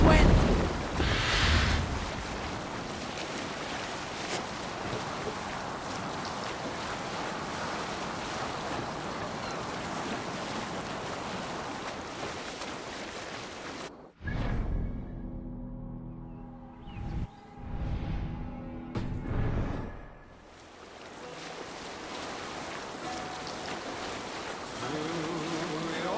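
Sailing ship in Assassin's Creed Valhalla, its sail raised to catch the wind, with a steady roar of waves and wind across the water, then a quieter stretch of creaking and splashing, with voices speaking over parts of it.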